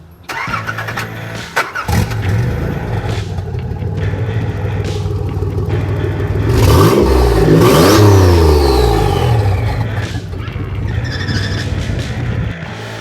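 A turbo V6 Subaru wagon drift build engine revs hard several times, rising and falling in pitch with loud, sustained roaring and a few sharp throttle blips, close to the microphone.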